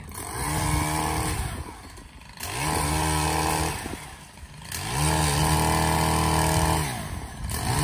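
A chainsaw cuts low tree branches on an old Florida cattle pen, its engine revving up hard in three long bursts and dropping back to a rough idle between cuts, loud and near with no talk.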